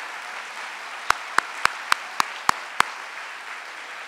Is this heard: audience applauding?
yes